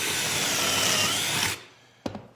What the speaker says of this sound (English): Use my amazing Ryobi drill.